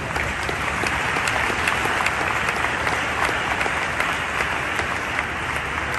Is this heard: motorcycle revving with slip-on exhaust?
no